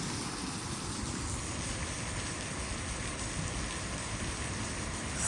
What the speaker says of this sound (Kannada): ಸಣ್ಣದಾಗಿ ಮಳೆ ಹನಿ ಬೀಳ್ತಾ ಇದೆ